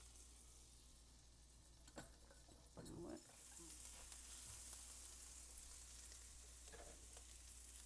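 Garlic frying in melted butter in a pan, a soft, faint sizzle running throughout, with a few clinks and scraping knocks of a utensil early on.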